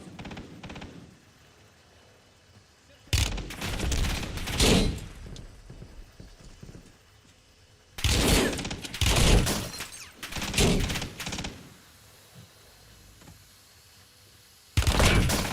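Bursts of rapid automatic gunfire in Call of Duty Black Ops 7 battle royale come in three loud clusters, separated by quieter stretches of ambient noise.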